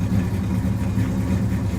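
A cold 1972 Chevrolet El Camino 454 big-block V8 idles close by, a deep, steady rumble with an even low throb and no talking.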